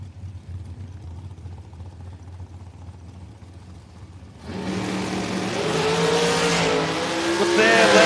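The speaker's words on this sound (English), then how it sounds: "Alcohol injected motor." An alcohol-injected race car engine at a drag strip, a low distant rumble that swells into a loud, close roar with rising revs and tire noise midway, an announcer talking over it.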